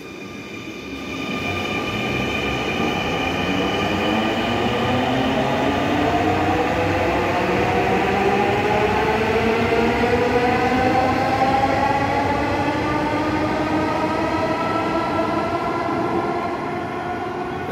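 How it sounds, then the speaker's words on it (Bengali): An electric metro train runs at speed of about 100 km/h, a loud steady rumble with rising and falling whine tones and wheel noise sustained throughout, close by with no talking. "100 কিলোমিটার বেগে এই ট্রেনগুলো চলে, সম্পূর্ণ বৈদ্যুতিক সাহায্যে।"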